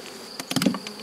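Honeybees buzz close by around a hive in a brief, busy hum, with a few louder passes flitting near.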